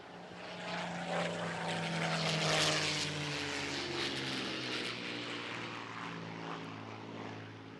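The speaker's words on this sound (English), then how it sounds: "whilst we have that wonderful sound of a Merlin engine" The Merlin engine of a WWII Spitfire drones steadily and loudly for several seconds as the propeller aircraft takes off, swelling slightly midway with no talking over it.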